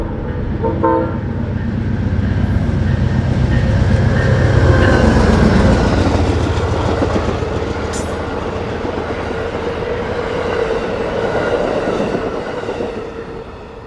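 Amtrak's eastbound Pennsylvanian passing on the Keystone Corridor in winter, a loud steady rumble of railcars rolling by with clickety-clack and a brief horn toot, swelling mid-pass then easing.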